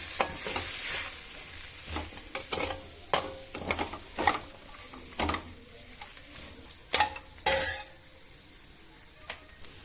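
Mutton keema masala sizzles and fries in a pan while a spoon stirs and scrapes through it, producing irregular clattering strokes over a constant close frying hiss, with no talking.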